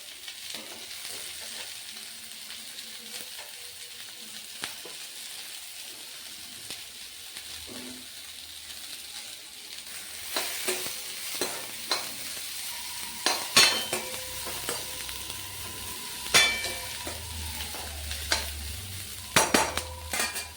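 Onion, capsicum and chili fry in a pan with a faint, steady sizzle. Scattered scrapes and clinks of stirring grow busier toward the end.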